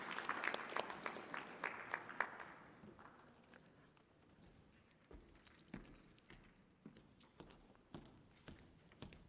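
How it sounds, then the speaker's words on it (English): Conference plenary audience claps for a speaker, a scattered round of applause that fades quickly into sparse individual claps and footsteps-like taps, fairly faint and distant in a large hall. "Please give a big round of applause to Gerard Silje"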